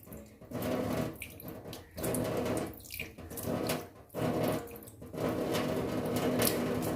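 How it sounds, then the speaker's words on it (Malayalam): Water from a tap splashing into a kitchen sink for cleaning, loud bursts of running flow switched on and off several times with short pauses between. "അപ്പോൾ അത് കുറച്ചൊന്ന് വെള്ളം ഒന്ന് തളിച്ചെടുക്കാം"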